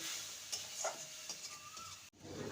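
Spices with Kashmiri chilli, turmeric, salt and sugar stir-fried for a fish ball curry, a soft sizzle broken by a few scraping stirs, with a brief sharp cut near the end before the frying returns.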